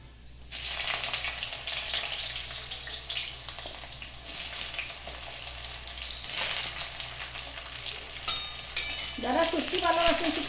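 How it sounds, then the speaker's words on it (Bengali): Eggplant pieces lightly frying in a pan of oil for a dried-fish curry give off a steady, fairly loud sizzle throughout, with a brief stirring clatter near the end. "এখন বেগুনগুলো একটুখানি হালকা ভাজা করে নেব"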